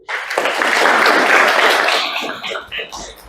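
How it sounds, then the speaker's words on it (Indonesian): Applause in a nursing lecture or training session after a participant's answer. A small group claps briefly and fairly loudly, swelling then fading into scattered claps with voices murmuring at the end. "Tepuk tangan dulu."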